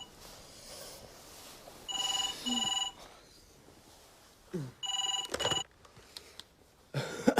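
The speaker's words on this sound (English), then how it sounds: "Nick, it's the phone." A telephone bell rings in loud, repeated bursts, two close rings followed by a pause and another pair, in a late-night indoor setting, with brief rustling between rings.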